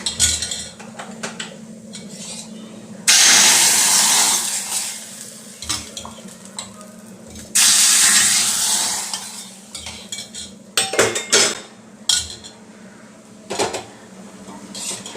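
Tempering of curry leaves added to tomato rasam in a pot and stirred, with two loud sizzling bursts as the hot seasoning hits the liquid, then scraping and clinking of a spoon against the pot.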